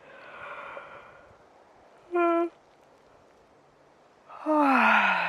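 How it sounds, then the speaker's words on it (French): A person in a Hatha yoga session lying on the floor deliberately yawns, giving breathy voiced exhalations with a falling, drawn-out sigh-like tone near the end, close and fairly loud in a quiet room. "Prenez une inspiration, forcez-vous à bailler."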